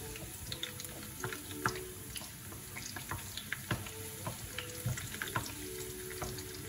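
Fresh garlic sizzles and crackles steadily in a frying pan while a utensil stirs it, giving scattered scrapes and small pops over a constant hiss; no one speaks.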